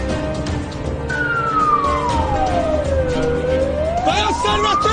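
A vehicle siren wails steadily, its pitch sweeping down and then back up, loud against a dense background of traffic and street noise.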